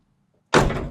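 A door on a worn 1970 Chevrolet C10 pickup slams shut after a brief quiet moment, a single loud, close metallic thunk that rings and fades out.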